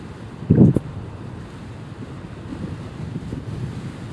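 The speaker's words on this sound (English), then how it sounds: "And now I get this wind." Wind gusting against the microphone outdoors, a steady low rumble with a brief louder buffet near the start, no voices.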